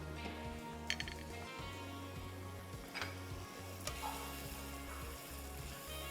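Green dal masala simmering in desi ghee on a stove, a steady low bubbling sizzle with soft ticking pops, moderately quiet and continuous throughout with no voices.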